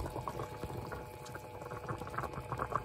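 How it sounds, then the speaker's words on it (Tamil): Chicken kabsa curry bubbling in a pot, a faint, steady stream of small pops and gurgles heard close up with no talking. "நம்முடைய கறி நன்றாக கொதித்து விட்டது."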